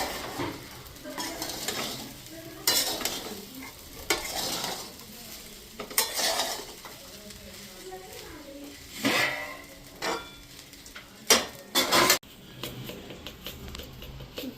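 Sabudana khichdi stirred in a hot pan, a spoon scraping and clinking against the metal in repeated strokes over a steady frying sizzle, close up and without speech.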